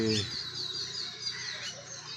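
Mixed songbirds, including mynas, chirp and whistle in a peepal tree in the morning, with thin high calls repeating over a steady outdoor background and a brief lower call at the start.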